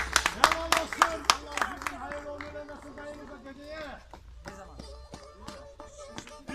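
Scattered hand claps for an elderly man at a gathering, sharp and close in the first second or two, then thinning into a few isolated claps while people talk throughout.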